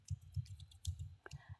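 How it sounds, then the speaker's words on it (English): Scissors click open and shut several times in quick succession, close and soft in an intimate romantic ASMR roleplay setting, with faint breathy noise between the snips. "I want to take these scissors"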